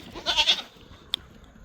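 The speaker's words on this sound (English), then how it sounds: "Calm down, goats. I hear ya." A single short goat bleat rings out from a farm goat pen, fairly close and clear, followed by a brief sharp click and then quiet background.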